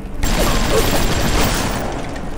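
Rapid gunfire aimed at glass in the video game BioShock, a loud, dense burst of shots that starts abruptly and continues steadily for about two seconds.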